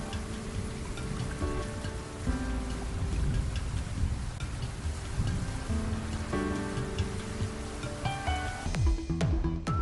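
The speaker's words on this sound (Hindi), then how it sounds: "कहीं तेज कहीं हल्की बारिश" Steady rain falls, a dense, continuous patter of drops on surfaces with scattered ticks and drips, even in level throughout.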